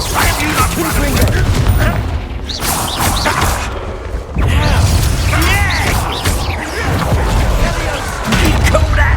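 Confringo spell blasts in Hogwarts Legacy, a dense barrage of loud booming explosions and crashing impacts layered with combat effects, nearly continuous with brief lulls, while voices shout over the battle.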